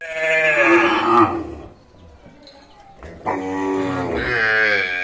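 Cows and calves of a local deshi breed at a cattle market in Dinajpur give two loud, drawn-out moos, one near the start and another in the second half, with a quieter gap between them.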